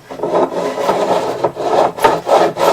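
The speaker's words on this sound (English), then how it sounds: "for it to get as much filing as the rest of them's getting" Beveling file worked along guitar frets, a steady rasping scrape of metal on fret wire and wood in repeated strokes, close and fairly loud, with no talk.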